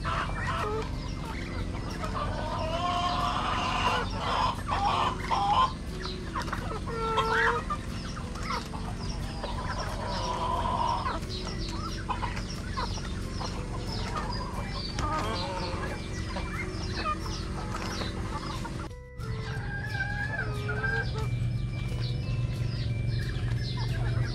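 Chickens cluck steadily at feeding over a dense farmyard din, with ducks and other fowl calling around them; a brief gap near the end before the clucking resumes.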